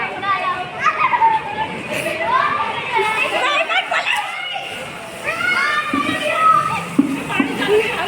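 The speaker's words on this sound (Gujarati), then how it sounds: "પાણી ચાલુ થઈ ગયું." Water sprays and splashes amid lively children's shouting and chatter at a Holi celebration, with busy outdoor noise throughout.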